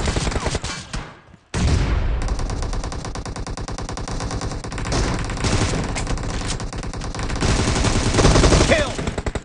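Rapid automatic gunfire rattles through a team deathmatch in the video game PUBG Mobile: a loud burst, a short pause, then long dense volleys of shots that keep going to the end.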